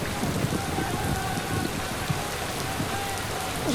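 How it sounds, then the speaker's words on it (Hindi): Steady rain patters on a surface in a continuous, even wash of noise, with faint voices murmuring underneath during a cricket match. "बारिश आ गई।"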